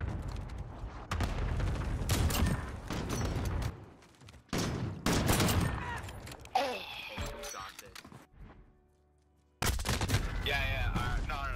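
Sniper rifle shots and other gunfire in a first-person shooter game, loud bursts of shots broken by brief pauses, with a player talking over the action.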